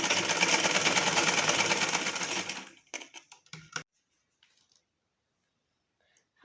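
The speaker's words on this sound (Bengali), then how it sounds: "তারপর সেলাই করব।" A sewing machine stitching a child's frock runs in a steady fast whir for a couple of seconds, then stops, leaving a few soft clicks and handling noises in near silence.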